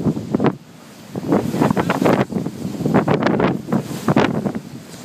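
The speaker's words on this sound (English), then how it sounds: "I'm experiencing 120 miles of steady winds and 260 miles of gusts." Hurricane Sandy winds buffet an apartment balcony, a loud steady roar with repeated gusting bursts and rumbling microphone buffeting throughout, no voices.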